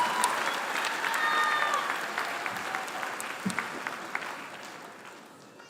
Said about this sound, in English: One more round of applause for the 2023 graduates of the full-time one-year MBA program.